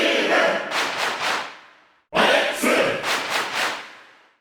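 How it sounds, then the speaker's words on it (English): A Japanese crowd shouts the name of Steve in the fighting game Smash Ultimate, twice, each loud group cheer rising in rhythmic syllables and fading out, separated by a brief silence. "All of them have a single cheer each, and it's clearly a group of Japanese speakers saying their Japanese names."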